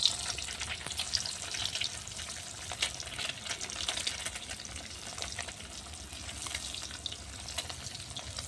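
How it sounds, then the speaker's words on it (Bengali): Eggs sizzling in hot oil in a pan on a clay stove, a soft steady crackle with light stirring clicks, fairly quiet and without speech. "এই সবগুলো আমি তেলে ছেড়ে নেবো এভাবে।"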